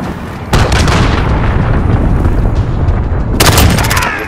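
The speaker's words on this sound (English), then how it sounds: "Allied cruise missile launched." Heavy explosions from an allied cruise missile strike in a video game: a loud booming blast erupts and rumbles on for several seconds, then a second sharp detonation bursts near the end.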